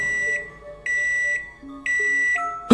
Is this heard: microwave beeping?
yes